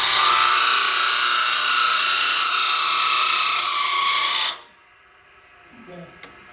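A wooden spinning top being turned on a lathe gives a loud, steady broadband cutting hiss for about four and a half seconds, then stops abruptly, leaving a quiet hum and a faint clunk.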